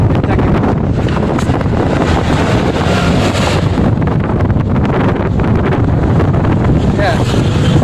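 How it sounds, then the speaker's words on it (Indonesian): Strong wind roars continuously across the microphone on the Bahteramas bridge in Southeast Sulawesi, loud and gusty throughout with heavy low buffeting. "Tes dulu, anginnya sangat kencang ini."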